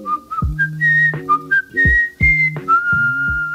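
Someone whistles a bright, lilting tune up close, the notes sliding between pitches over soft, low plucked accompaniment.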